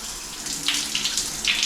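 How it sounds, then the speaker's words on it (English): Water running from a faucet valve in a house, a steady rushing spray with gurgling surges, close and fairly loud with no talk. "So if we turn this on, the first thing we should get is cold water."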